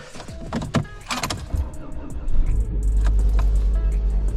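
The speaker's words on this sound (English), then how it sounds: "I always hope that the car starts when it's cold outside. So let's see if it does." A car is started outside on a cold day: clicks and handling noises come first, then the engine catches and settles into a steady low idle close by.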